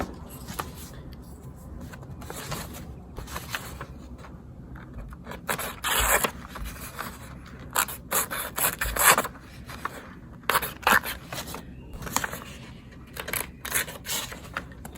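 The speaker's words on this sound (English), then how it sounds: "Let's see if this little tiny hatchet can cut some printer paper." A small Marbles Mini-Axe pocket hatchet chopping and scraping through printer paper, with irregular rasping strokes and sharp crinkling bursts up close, louder in the middle stretch.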